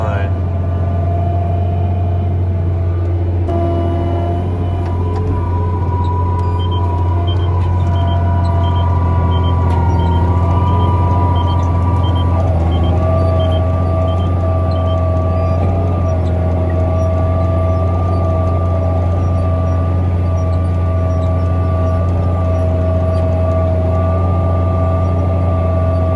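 Tractor engine droning steadily at about 1800 RPM in 9th gear while pulling a plow through fall tillage, a loud constant low hum filling the cab throughout.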